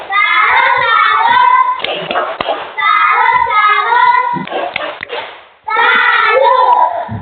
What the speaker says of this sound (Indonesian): tepuk salut untuk Zelo